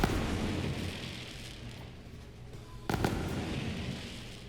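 The Bearcat gun in the video game Borderlands 3 fires sticky exploding rounds: a crackling barrage of rapid small pops and bursts, with a loud blast at the start and another sharp burst of explosions partway through.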